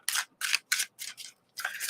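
Tarot cards shuffled during a live reading, in about five short bursts of papery riffling separated by brief pauses, close and fairly quiet, with no voices.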